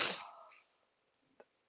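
A single sharp sneeze bursts out at the start and fades, followed by quiet breathing and a couple of small clicks.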